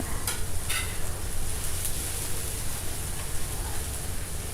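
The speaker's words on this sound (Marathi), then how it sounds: "हे सगळं आता तेलावरती परतून घ्यायचं आहे." Garlic, ginger and green chillies sautéing in oil, a steady close hiss of frying with a few scraping stirs near the start.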